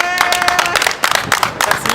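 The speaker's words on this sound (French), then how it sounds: "donc je pense qu'on peut applaudir Seyos" A small audience applauds at the end of a making-of talk for a fan film: a lively spread of close, uneven claps continuing throughout, with some whistle-like tones and voices mixed in at the start.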